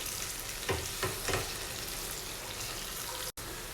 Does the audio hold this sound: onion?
yes